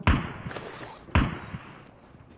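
Two grenade blasts in COD Mobile battle royale, each a sharp close boom about a second apart that fades with rumbling debris, followed by small scattered clicks.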